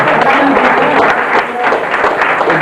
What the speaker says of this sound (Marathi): सगळ्यांनी टाळ्या वाजवायच्या